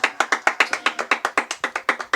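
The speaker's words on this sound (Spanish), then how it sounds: "Dele aplausos al Señor." A church congregation claps together in praise during a Spanish-language worship service, a steady run of about sixteen quick, even claps filling the space with no talk over them.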